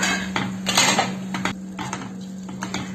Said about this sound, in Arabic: وهلا رح انزل بالثوم والبانجان فوق الخضرة، بقلبهم تقليبه مع بعض.